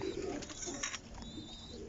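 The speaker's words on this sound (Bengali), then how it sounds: "অনেক কবুতর এখানে, খুব সুন্দর সুন্দর কবুতর" High-flyer pigeons coo softly in the background, low murmuring calls against a faint, steady hiss.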